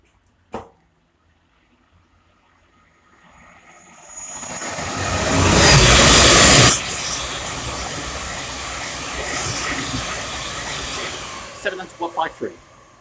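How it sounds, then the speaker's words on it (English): A Thameslink Class 700 electric train runs through Welham Green station on its way from Cambridge to Brighton. A broad whooshing roar swells after a quiet start, peaks loudly as the train passes close by, then settles into a steady rumble, with a few clicks near the end. "we have a Thameslink 700 passing through from Cambridge to Brighton"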